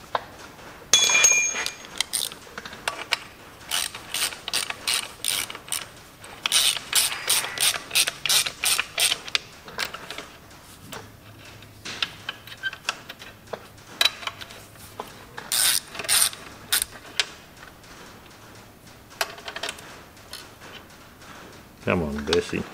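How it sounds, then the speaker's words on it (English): Ratchet spanner working on a Massey Ferguson 135 tractor during clutch fitting, with bursts of rapid close metallic clicking separated by pauses and clanks, and a voice speaking briefly at times. "a little ratchet."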